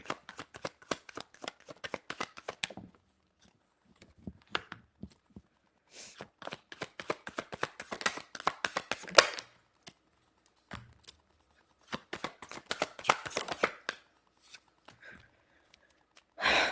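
A deck of cards shuffled in repeated riffling bursts, crisp rapid flutters separated by short pauses, fairly close and alone with no talk.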